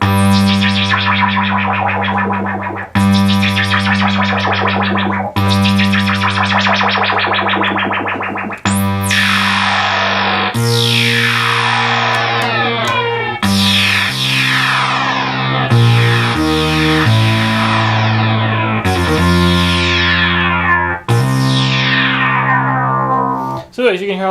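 A restored 1972 Minimoog synthesizer runs through about ten loud, buzzy notes at changing pitches, each bright attack sweeping downward under filter and pitch modulation, with a brief spoken remark over the sound.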